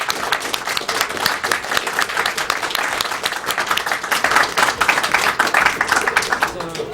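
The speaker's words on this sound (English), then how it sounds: "So they really do deserve a round of applause." An audience at a speedrun marathon applauding, a dense wash of clapping sustained throughout, with a voice speaking over it.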